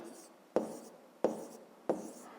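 Three separate strokes of a pen or chalk tapping and scraping while numbers are written by hand during a fifth-grade maths lesson, each a soft knock with a short scratch, close by and quiet.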